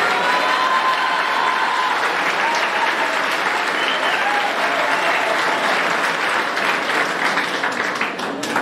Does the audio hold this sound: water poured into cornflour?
no